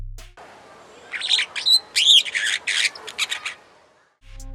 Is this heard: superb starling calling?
yes